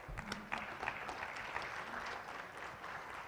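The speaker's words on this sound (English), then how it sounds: "please give a round of applause for our panelists" Audience applause for panelists at an Indonesia–Central & Eastern Europe business forum, a steady patter of many hands at moderate distance, fairly quiet and continuous with no voices over it.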